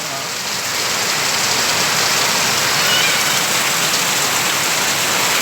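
Heavy afternoon rain pours steadily as a dense, unbroken hiss that builds slightly after the first half-second and holds loud and close on a small chicken farm.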